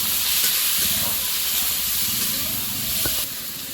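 Ingredients frying in hot oil for a Sundarban home-style dish, a loud, steady close sizzle and hiss with faint clinks of a utensil, easing slightly toward the end, with no talk.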